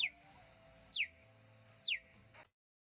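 Three high, sharp chirps from a cheetah, each a quick bird-like call separated by short gaps, clear and fairly faint against a quiet background.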